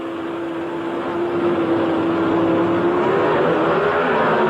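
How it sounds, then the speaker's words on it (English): Drag race cars, a Ford Fairmont and a Chevrolet Camaro, roar at a steady high pitch and grow louder as they launch down the strip, with the engine note rising slightly toward the end. "The Ford Fairmont of Bob Glidden against Frank Iaconio in the Chevrolet Camaro."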